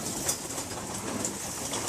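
Racing pigeons in an Australian loft give soft, low cooing calls over a continuous background hum, with faint higher chirps now and then.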